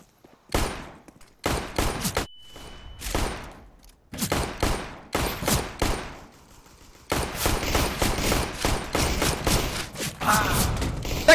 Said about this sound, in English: That took 15 shots!